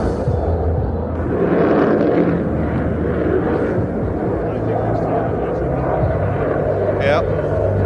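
A jet aircraft roars on full afterburner at an evening air show in Ayr, giving a steady, loud, broadband rumble that holds throughout, with a brief whistling tone near the end.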